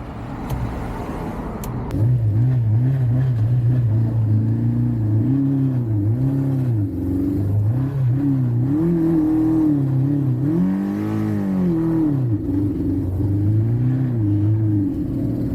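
A barn-find Suzuki Katana motorcycle engine runs roughly on the road, its steady drone surging and sagging unevenly as it struggles, close and loud with no talking.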